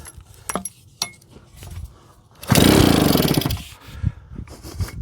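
A small JAP 36cc two-stroke engine driving a Stuart water pump bursts into a loud, buzzy run for about a second before dropping back, with metallic clinks and knocks around it.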